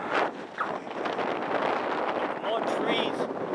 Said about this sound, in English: Oh, it's breezy out, peoples.